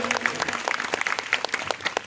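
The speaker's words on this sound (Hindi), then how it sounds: "जोरदार तालियां हो जाए भैया जी के लिए" Applause from a crowd at a devotional gathering, honouring a devotee who has been draped with a chunri and presented with coins. Steady, dense clapping from many hands carries through at moderate volume, with a voice briefly audible.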